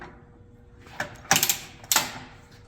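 A hydraulic torque wrench is reset to its tightening direction with a handful of sharp mechanical clicks and ratcheting snaps, close and clear over a quiet background.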